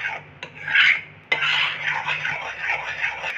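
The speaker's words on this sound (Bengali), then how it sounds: "এইভাবে নাড়াতে থাকবো খুব করে" A thickening laddu malai mixture is stirred in a pan on low heat, with loud scraping and rubbing of a utensil against metal in continuous strokes and one sharp knock.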